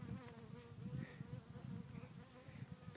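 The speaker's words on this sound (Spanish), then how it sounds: "Una abeja me quiere" A bee buzzes close by with a low, steady drone that wavers slightly as it hovers, with no talking.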